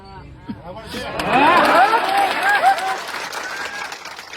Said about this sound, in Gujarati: તાળીઓ તમારી તાળીઓ સાંભળવા હું નથી આવ્યો